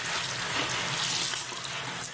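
Tap water runs steadily into a sink as aquarium filter media from a betta tank is rinsed, a close, continuous hiss and splash with no talk.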